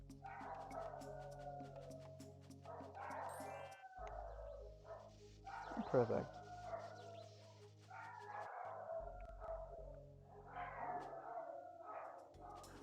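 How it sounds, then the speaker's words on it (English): Dogs bark repeatedly in the background with short yips and woofs, moderately loud, under game sounds and a voice that speaks now and then. "Dogs are barking away in the background over there."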